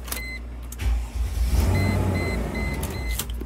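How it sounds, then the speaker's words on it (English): A Mercedes ML430 or ML320 SUV engine cranks and starts after a key lock and unlock, then settles into a steady, close idle with a faint beeping tone over it. "start the car."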